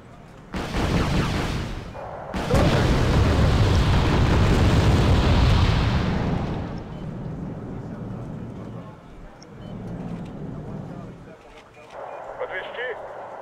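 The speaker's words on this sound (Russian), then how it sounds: "Чертова артиллерия, а?" Artillery fire and explosions in the Wargame Red Dragon strategy game: heavy roaring blasts build into a sustained, loud rumble, then fade to a quieter, grumbling background while a voice talks.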